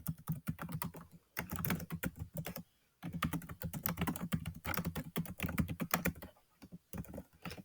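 Someone types a question on a computer keyboard, producing quick, close clicking keystrokes in steady bursts with brief pauses between them, and no voices.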